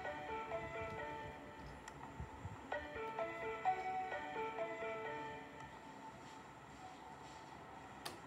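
A Plarail toy train arrives at a replica of Osaka Metro Sakaisuji Line Nippombashi station. A soft rolling rumble runs under a chiming melody of bell-like tones, faint and fairly close.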